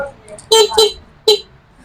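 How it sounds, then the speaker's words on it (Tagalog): Three short horn honks from an electric bike sound close by, two in quick succession and then one more after a brief pause. "Busina."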